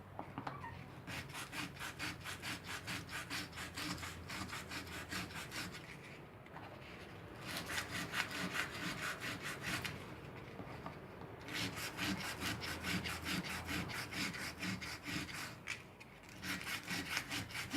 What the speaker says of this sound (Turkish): bir zımparayla 150'lik veyahut da 200'lük bir zımparayla bu üstteki parlak kısmı alıyoruz